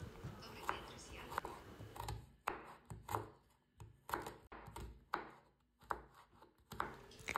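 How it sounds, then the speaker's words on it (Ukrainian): A knife chops three medium carrots into rings and then strips on a cutting board, a run of crisp, close knocks in an irregular rhythm at a quiet level. "беру три середніх морквини, нарізаю колечками, а потім смужками"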